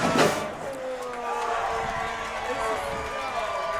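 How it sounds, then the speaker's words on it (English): Buzzing, sold-out crowd noise fills the stands at Chapman's homecoming football game against Claremont, a steady broadband roar with a brief louder swell at the start and talk mixed in. "That last touchdown brought a jolt to the Chapman crowd as they're starting to get a buzz now"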